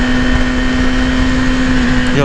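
Yamaha YZF R6 sport motorcycle, a 2018 model, engine running while being ridden, a steady loud tonal drone holding throughout with a slight pitch change near the end.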